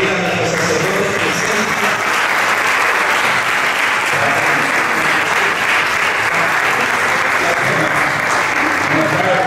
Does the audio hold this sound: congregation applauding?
yes